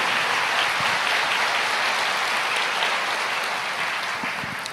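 A church congregation applauds during a sermon, a dense, steady wash of many hands clapping at once that fades slightly toward the end, with no talking over it.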